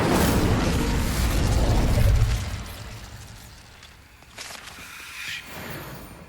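Incendio fire spell cast in the Hogwarts Legacy video game, a loud low booming burst with a rushing whoosh that fades over a few seconds, followed by fainter crackles and a small pop.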